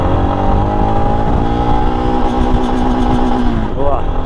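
A motorcycle engine pulls away in first gear on a road, a steady droning growl that holds near and loud before rising slightly in pitch as it accelerates.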